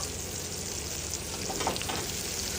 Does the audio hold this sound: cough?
no